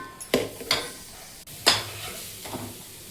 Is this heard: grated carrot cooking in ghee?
yes